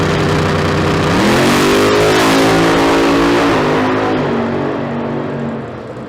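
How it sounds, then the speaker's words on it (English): A 1987 Ford Mustang drag car from Spokane, Washington, launches hard at a street car drag race, its loud engine revving up in a rising roar, holding, then fading as it pulls away. "the 87 Mustang coming in out of Spokane, Washington"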